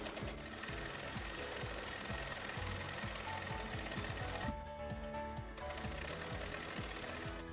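A sewing machine runs steadily, stitching all the way around the edge of a baby blanket, its rapid needle knocking continuous and close, with one brief easing of the motor partway through.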